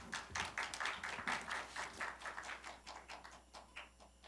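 Sparse, quiet applause from a small audience at a Korean university performance forum, greeting the next presenter; individual claps are distinct and uneven, thinning out toward the end.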